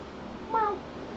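A pet cat gives a single short meow, close and clear, over a low room hiss with no talking.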